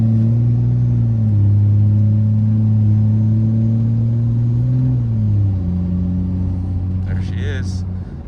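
A fourth-generation Cummins diesel truck with a swapped turbo pulls steadily from inside the cab, a deep droning engine note with rising turbo flare, while someone talks over it.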